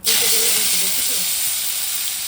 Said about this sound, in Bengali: অল্প করে একটু তেল দিলাম একটু হলুদ দিলাম নাহলে ছিটকাবে